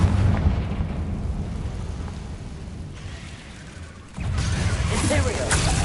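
A Confringo blasting spell explosion in Hogwarts Legacy, a loud rumbling blast that fades to a low roar before a second burst of crackling debris, with no speech.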